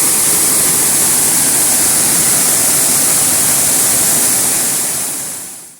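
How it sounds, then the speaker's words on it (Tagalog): Waterfall number seven on a riders' trip, a loud, steady broadband roar of rushing water holding constant throughout before tapering off at the very end, with no voices. "There's falls number 7."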